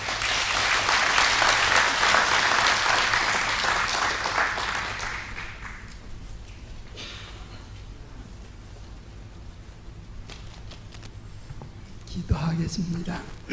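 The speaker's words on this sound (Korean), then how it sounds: "우리 나오실 때 박수로 환영하겠습니다." Church congregation applauds to welcome a retired pastor, a dense, steady round of clapping through the first five seconds that then fades into quieter room tone, with a brief rustle near the end.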